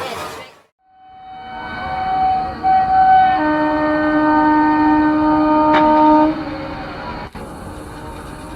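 A train rumbles past close by, its horn sounding long sustained tones over the rolling noise before it recedes.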